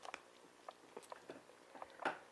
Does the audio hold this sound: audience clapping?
no